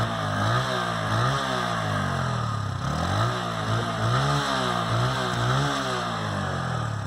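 A TVS Apache RTR 160 4V motorcycle revs in neutral, its exhaust rising and falling in repeated throttle blips over a steady idle, loud and close.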